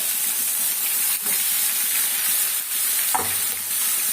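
Spice masala and tomato sauté in hot oil in a pan, giving a loud, steady sizzle and hiss. Brief stirring scrapes break through now and then, and no voices are heard.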